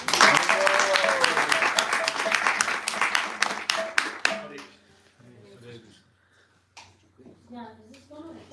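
A roomful of people claps loudly for about four seconds at a home gathering, then the applause dies away and a few quiet voices, including a child's, talk.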